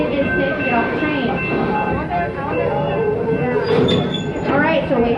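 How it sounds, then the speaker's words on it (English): Amusement park train ride at Busch Gardens, with a steady rumbling rail-car roar and faint clatter continuing throughout, close and loud beneath a voice talking over it. "Everybody will be disembarking from the train"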